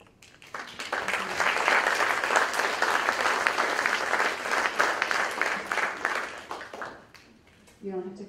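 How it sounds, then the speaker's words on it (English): Following a poetry reading, an audience breaks into sustained applause, a dense wash of clapping that rises quickly, holds for several seconds, then fades before a voice begins speaking. "You don't have to clap for every poem."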